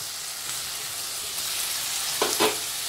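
Tomatoes with ginger garlic paste sauté in a pan for vegetable biryani, a steady close frying hiss with two brief spatula scrapes near the end, no talk over it.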